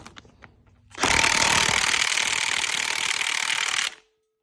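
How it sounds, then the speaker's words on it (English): A Mac 1/2 inch impact wrench hammers on a K24 engine's crank bolt without freeing it, a loud, close, continuous rattling burst lasting about three seconds before cutting off abruptly. "Here's my Mac 1/2 inch. Trying to take out this crank bolt."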